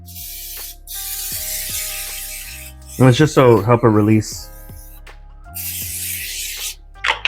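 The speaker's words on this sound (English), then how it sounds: "I'm going to line this with some spray" Short hissing bursts of cooking spray into a pan come close and loud, one before and one after a stretch of talking, with another quick spritz at the end.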